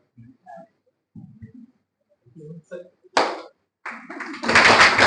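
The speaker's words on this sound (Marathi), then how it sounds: "जॉर्ज साठी एक टाळी" A school audience bursts into clapping for George, the applause starting with a sharp burst and then building into dense, loud hand claps, after a short stretch of talking.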